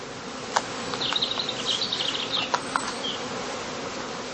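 A dense, steady buzzing of many honey bees in a straw skep fills the clip, with a few sharper clicks and knocks close by.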